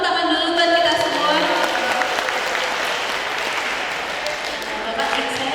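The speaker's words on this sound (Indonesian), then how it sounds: "Teman-teman boleh dong tepuk tangan dulu buat kita semua." An audience at a university public lecture on financial freedom applauds steadily, with dense, sustained clapping and a few voices cheering over it.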